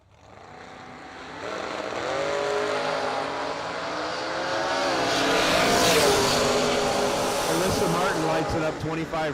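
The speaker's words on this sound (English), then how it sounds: "Tony Mazza in his other Camaro, dialed 531 right lane" Drag racing cars, including a Camaro, roar hard down the strip at a Christmas Bash drag event, the engine noise building into a loud sustained wail with shifting pitch as the cars pull away, while an announcer talks over it.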